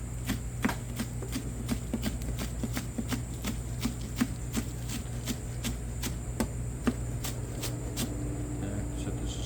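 Knife chopping through green onion tips on a cutting board, a steady run of sharp, evenly spaced taps close up over a constant low hum.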